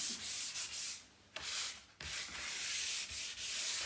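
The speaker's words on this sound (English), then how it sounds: "Give it all a nice light sand down." Sandpaper rubs lightly over a kitchen cabinet before hand painting, close rhythmic scraping strokes in bursts with short pauses between passes.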